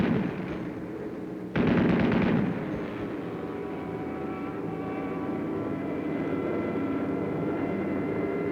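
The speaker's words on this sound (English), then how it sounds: "In desperation, through his own flak, the final Hun fighter makes a pass at the low squadron" Droning aircraft engines throughout aerial combat, with a burst of heavy anti-aircraft flak or fighter gunfire near the start and a continuous low roar that persists afterward.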